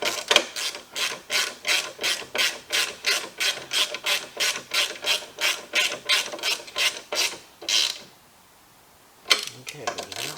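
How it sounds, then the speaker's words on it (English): A hand ratchet tightens bolts on the power steering pump of a 1995 Buick LeSabre, giving a long run of steady, evenly spaced clicking strokes up close, then a brief pause and a few more clicks. "Now we can tighten these two back down."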